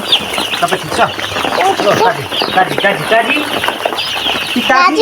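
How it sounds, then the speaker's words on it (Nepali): Chicks and hens on a Nepali homestead, peeping and clucking in quick overlapping calls at close range, with people talking at the same time. "चल्लाहरू भागेर आयो टुङटुङ टाढो"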